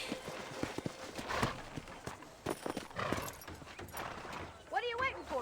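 Horse hooves walk in Red Dead Redemption, a string of close, uneven clip-clop thuds running under voices talking throughout.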